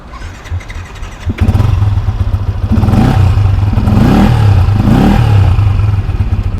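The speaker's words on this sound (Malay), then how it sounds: "Bila kita tukar exhaust, contoh macam motor ni aku start." A motorcycle fitted with an aftermarket exhaust clatters to life after a quiet moment, then idles loudly and close with a few light throttle blips, and no one speaks.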